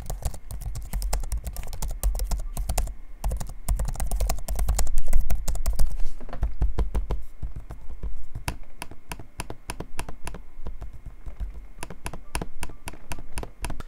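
Typing and trackpad clicks on the keyboard of an MSI Summit E16 Flip laptop: close, dense runs of key clatter with brief pauses, steady throughout and alone, with no talking.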